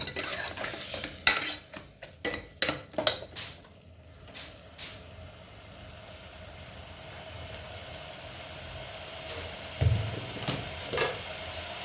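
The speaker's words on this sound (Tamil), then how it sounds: "இதோட கொஞ்சம் இஞ்சி பூண்டு பேஸ்ட்டு போட்டுக்கோங்க." Ginger garlic paste frying in a pan while being cooked for a tomato rice dish, with clattering spoon stirs and scrapes in the first few seconds over a low, steady sizzle that continues alone.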